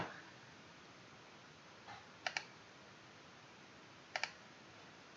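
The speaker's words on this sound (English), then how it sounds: "And finally we click the save button." Computer mouse clicks on a save button in a quiet room, a soft double click followed a couple of seconds later by another crisp double click, with faint background hiss.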